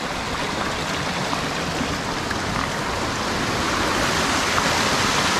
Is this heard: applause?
no